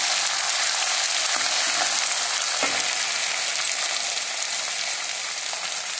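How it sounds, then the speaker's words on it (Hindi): Green chillies sauté in a hot pan for chilli fish, giving a loud, steady, dense sizzle that runs unbroken from start to end with no voices. "सौते कर लेंगे।"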